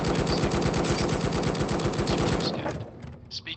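Rapid automatic gunfire in the VR game I Expect You to Die on Meta Quest 3, a loud continuous burst of dense shots that cuts off near the end, followed by a few scattered clatters.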